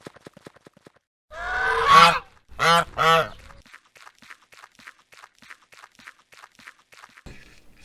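A goose gives a few loud, close honks in quick succession, then faint pattering steps and soft rustling follow.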